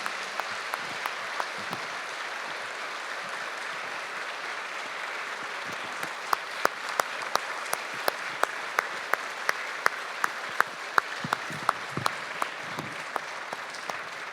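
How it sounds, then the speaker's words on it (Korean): Applause from a church congregation thanking the elders at a plaque presentation, starting as sparse claps and building into denser, steady clapping at moderate volume, then thinning out. "수고하신 장로님들께 감사의 박수를 부탁드립니다"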